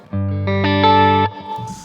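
A Music Man Valentine electric guitar on the neck pickup through a Stone Deaf SD-30 amp head rings out a short rising sequence of clean sustained notes, loud and close, then cuts off abruptly.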